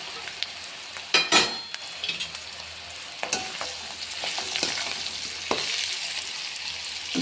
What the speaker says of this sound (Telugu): కట్ చేసుకున్న కాకరకాయలు వేసేసుకుంటాం.